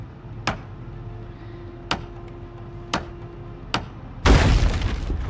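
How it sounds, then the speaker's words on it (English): A loud explosion-like crash bursts out in the zombie survival game Project Zomboid, a broad roaring blast near the end, preceded by four sharp, evenly spaced clicks over a low hum. "that sounded like an explosion when it went off"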